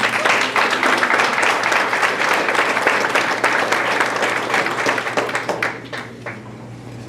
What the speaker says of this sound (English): And my assistant coach, Coach Watson, big applause for him.